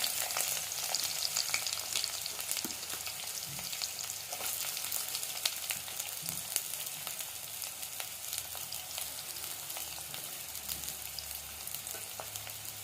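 Chopped onions sizzle and crackle in hot oil with whole garam masala, a steady close frying hiss with occasional stirring scrapes throughout.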